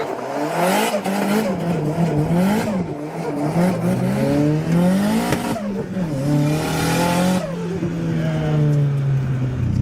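A Nissan S15 drift car with no differential revs hard and continuously, its engine note rising and falling through repeated throttle blips as the tires squeal, loud and close, with no talk.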